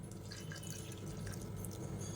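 Strained white soaking water trickles into ground batter in a wet grinder while making a Karthigai festival offering: a quiet, continuous pouring with faint dripping, close by.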